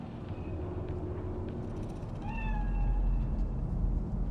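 A cat in Cyberpunk 2077's Night City gives a couple of clear, rising meows over a steady low game ambience, the second call drawn out and louder near the end.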